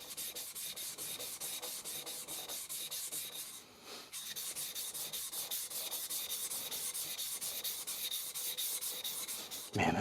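A knife being sharpened on a vitrified 1000 grit diamond whetstone, a steady chalky rasping scrape in continuous close strokes with a brief pause near the middle, no talking.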